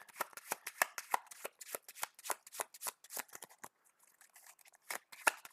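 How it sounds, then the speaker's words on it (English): Cards from a game deck being shuffled by hand, a rapid run of crisp riffling flicks and taps close up, pausing briefly before a few more. "Shuffle the encounter deck again."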